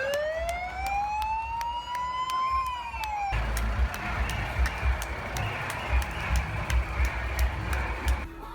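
Fire engine sirens wail with a rising and falling tone at a London Pride parade, then give way to crowd noise and regular rhythmic clicks as the procession passes.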